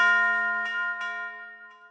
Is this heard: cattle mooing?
no